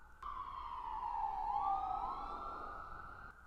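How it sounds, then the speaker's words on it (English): Emergency-vehicle sirens pass by at moderate distance, a continuous wail that starts abruptly, dips in pitch midway and then climbs back before cutting off, with no talking. "I'm going to wait for those sirens to pass."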